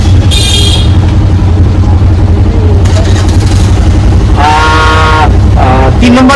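An auto rickshaw drives through busy traffic near a market metro stop, its steady low engine rumble mixed with street noise and a couple of short horn toots, while people talk close by.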